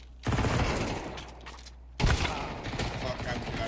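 Gunfire in a shooting video game: two heavy, dense bursts of rapid shots, the first starting just after a quiet moment and the second following about two seconds later, both loud and close with a rough, crackling spread.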